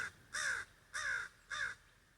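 A crow caws three times at an even pace, loud and close, each harsh call separated by brief quiet outdoors in early spring.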